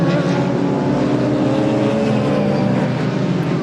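Formula Ford 2000 racing cars at Brands Hatch roar past continuously, a loud dense engine drone filling the whole stretch without pause.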